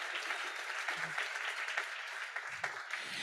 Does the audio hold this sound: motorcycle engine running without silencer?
no